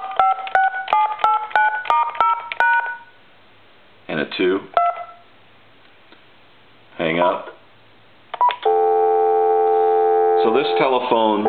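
Touch-tone dialing beeps in a quick series, then scattered speech bursts over a phone line and a steady ringback-like tone, heard through the small speakerphone of a repaired Pacific Bell or GE four-line telephone.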